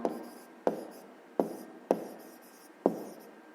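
Pen writing on paper in short scratchy strokes, five or six crisp taps each followed by a fading scratch, close and quiet with no one talking.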